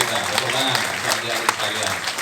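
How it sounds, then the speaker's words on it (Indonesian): Audience applause at an Islamic religious gathering with communal salawat singing, a dense, steady patter of many hands clapping close by throughout, with a few sharper claps standing out. "Tepuk tangan untuk adik-adik sekalian."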